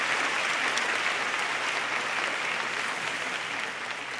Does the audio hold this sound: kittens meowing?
no